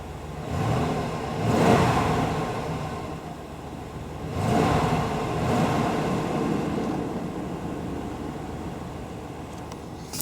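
A car engine idling steadily after an easy start, with a continuous low rumble that swells twice in brief revs, heard from nearby outdoors.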